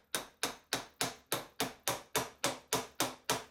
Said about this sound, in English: Lots of very small taps with a hammer against a piece of brass bar